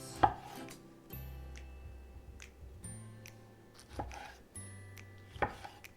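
A knife chops the ends off tomatoes on a cutting board while gazpacho is prepared, giving a few sharp, separated cuts and taps at an uneven pace, fairly close and clear, with no talking.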